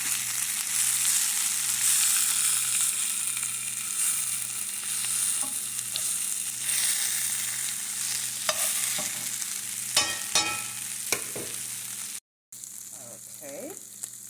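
Cabbage and sausage fry in a pan with seasoning, peppers and onions while being stirred. A steady sizzle hisses throughout, with scraping and clinking stir strokes, and the sound cuts out briefly near the end.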